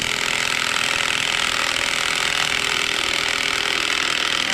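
A reversed impact wrench hammers at a KTM motorcycle's clutch nut in a loud, continuous, harsh rattling whir that runs unbroken throughout, close up and without voices.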